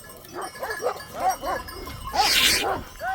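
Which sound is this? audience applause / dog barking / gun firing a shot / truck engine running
dog barking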